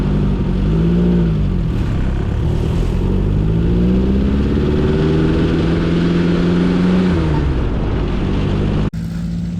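A dune buggy engine revs hard at Silver Lake Sand Dunes, a loud, close, continuous roar whose pitch rises and falls through repeated throttle changes before cutting off abruptly near the end.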